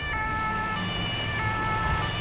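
An ambulance siren in the video game GTA 5 wails continuously and loudly over a rumbling vehicle engine, with no talking.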